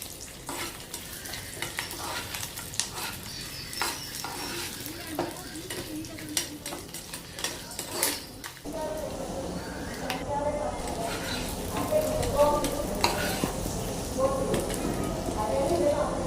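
Cashews, coconut pieces and raisins fry in a pan for sweet pongal, a steady sizzle with stirring scrapes that grows louder and denser partway through, close up and without talk.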